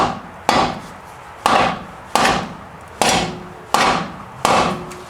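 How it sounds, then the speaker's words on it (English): Six sharp hammer taps strike a wood block at a steady, unhurried pace during a 2010-2013 Mazda 3 front strut replacement, each with a short ringing decay, close and clear with no talking. "taking a hammer, I might go get a bigger one. Just going to give it"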